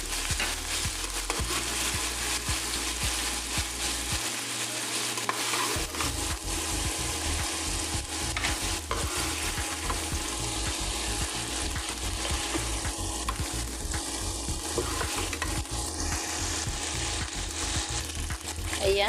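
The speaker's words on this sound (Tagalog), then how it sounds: "nagsisisling na siya sa sarili niyang mantika" Chicken pieces sizzling in their own rendered fat in a pan for halang halang manok, a dense continuous crackle with steady stirring scrapes and a brief lull early on.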